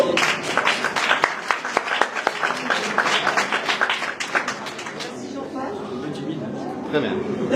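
Audience at an art exhibition opening bursts into lively applause with sharp individual claps, then the clapping thins and fades into a quieter murmur of room chatter.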